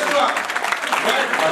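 A crowd at a fund-raising event claps in a dense, steady burst, loud and close throughout, with voices mixed in.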